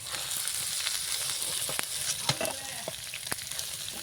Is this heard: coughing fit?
no